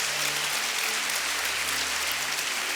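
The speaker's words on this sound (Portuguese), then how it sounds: "Uma salva de palmas para Jesus." Steady, dense applause from a church congregation, sustained throughout at an even level with a low hum underneath.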